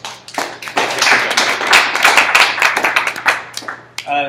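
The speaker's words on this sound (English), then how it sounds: "let's give them a little round of applause" A small lecture audience gives a short round of clapping, individual claps distinct and fairly close, building then trailing off before a voice begins at the very end.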